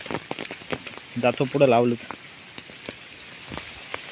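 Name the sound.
rain falling on a rice field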